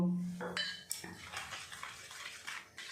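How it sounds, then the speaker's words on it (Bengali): A thin batter of cornflour, flour and water is whisked in a bowl with a metal utensil, giving quick irregular clinks and scrapes against the bowl, close and fairly quiet, with no speech. "এর মধ্যে একটু বেশি পরিমাণে জল দিয়ে পাতলা করে একটা ব্যাটার বানিয়ে নেব"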